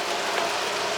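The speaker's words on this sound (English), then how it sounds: "So it's been raining really a lot all day." Steady rain falling all day outdoors during sap season, a dense, even hiss of drops on surfaces, moderately loud and continuous with no voices.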